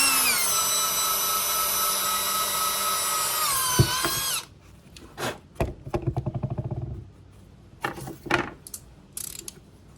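A nearly worn-out power drill whines steadily at high speed drilling holes in a Nissan Frontier bed, then winds down and stops, followed by short bursts of ratcheting and clicking.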